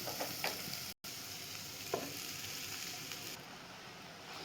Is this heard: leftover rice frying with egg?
yes